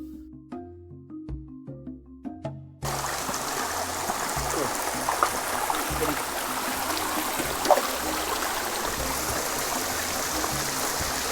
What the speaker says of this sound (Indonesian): agar sisa-sisa aliran air yang sedikit ini tetap bisa mengalir bersih